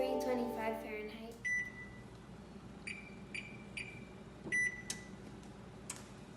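Electronic control beeps from an oven being set to 325 degrees Fahrenheit while baking peanut butter chocolate chip cookies, several short sharp beeps spaced over a few seconds after some speech at the start.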